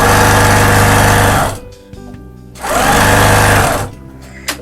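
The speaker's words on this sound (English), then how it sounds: "The sewing machine will do what it needs to do" A home sewing machine runs at speed stitching fabric for a quilt scrap project, a loud steady motor whir in two long bursts separated by a brief pause with small handling sounds.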